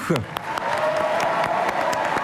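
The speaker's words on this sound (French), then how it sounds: "merci d'applaudir bien fort Marie Alenoux" A television studio audience breaks into applause for an arriving guest, dense steady clapping from a full crowd after a brief voice at the start.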